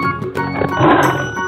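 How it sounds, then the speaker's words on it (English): A lion roars in a cartoon-style animal sound sequence, a short loud growling roar up close lasting about a second, with a brief chime-like sound mixed in. "Lion."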